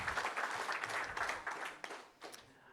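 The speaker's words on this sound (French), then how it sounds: "On peut vous applaudir aussi, chaleureusement." Audience applause at a French workshop on hydrogen for rural, isolated and island territories: steady clapping from a modest crowd, fairly faint and distant, with a few louder bursts toward the end as it tapers off.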